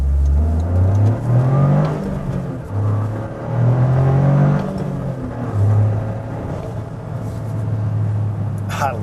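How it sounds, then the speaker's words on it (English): A 2024 Toyota GR Corolla's turbocharged engine revs and pulls through gears, rising and falling in a loud, close drone with whirring turbo tones, a short lull midway before climbing again. "I love that turbo sound, man."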